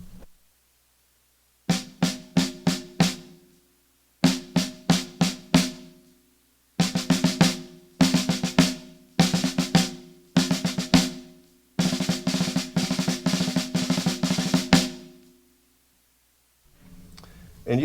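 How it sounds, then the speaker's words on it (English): Five-stroke roll rudiment on a drum, played alone as repeated short rapid bursts of crisp strokes with gaps between, then a longer run of continuous rolls near the end. "We're jumping to number 2, the 5-stroke roll."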